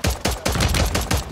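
Rapid automatic gunfire in Call of Duty Warzone 2.0, a quick string of about six loud, punchy shots fired close in even rhythm, with no talking.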